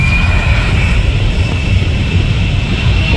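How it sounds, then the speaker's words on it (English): Jet blast from an American Airlines plane taking off at Maho Beach, Sint Maarten, a loud, steady, continuous roar with a sustained high whine over heavy rushing air and rumble. "we waited around to experience the jet blast from the American Airlines plane taking off"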